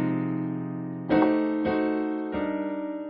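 Piano playing drop 2 jazz chord voicings: a sustained chord, then three more struck chords in slow succession, each ringing and fading, close and moderately loud with no speech.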